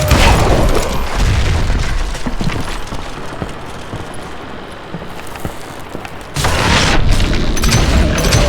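A dynamite explosion in the video game Call of Juarez Gunslinger: a loud, rumbling boom with a long roaring, debris-like wash that dips in the middle and then surges again.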